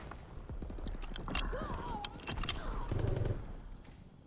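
Scattered gunfire from a Call of Duty WWII multiplayer match, faint and mid-distance, with intermittent shots and short bursts under game ambience and a player talking over it.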